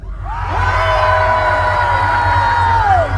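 A large crowd at an outdoor concert in Boseong cheers and whoops loudly, a sustained roar of many voices that swells and holds for a few seconds before tapering.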